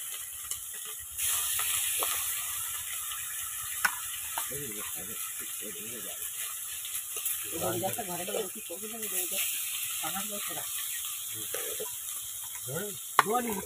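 Rupchanda fish fries in hot oil over a wood-fired clay stove, giving a steady soft sizzle with intermittent scraping and stirring noises, while someone talks throughout.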